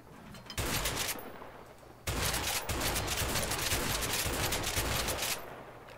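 Gunfire in the video game A Way Out: loud, dense bursts of rapid shooting, a brief pause, then a long sustained volley that fades out near the end.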